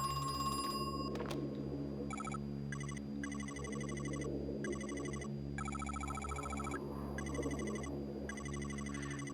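An old-style telephone bell rings in the Crow Country video game, in repeated bursts of rapid trilling separated by short pauses, clear and steady over a low droning ambient backdrop.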